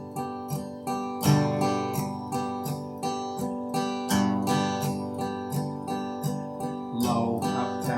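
Electric guitar strummed in steady eighth notes, fuller down strums alternating with thin up strums catching only one or two strings, played alone at moderate volume with an even rhythm.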